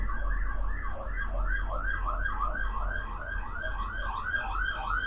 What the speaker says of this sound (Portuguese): Deixa eu passar a sirene.